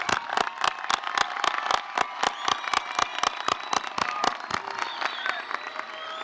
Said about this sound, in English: Please help me in applauding all those people that got you here today.